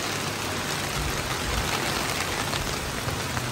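Rain falls steadily on a cemetery in Latvia in July, an even, hissing wash of noise, with no voices.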